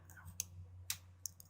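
A few soft mouse clicks, three or four sharp isolated ticks spaced irregularly over a faint steady hum, close and quiet.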